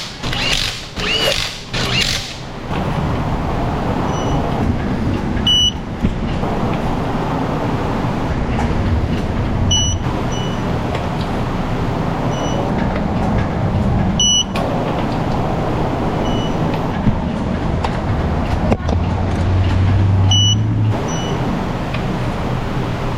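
A vehicle engine, likely a C10, Sierra or Jeep, idles steadily inside an auto repair shop after an oil change, a continuous low rumble with faint metallic ticks and shop noise around it.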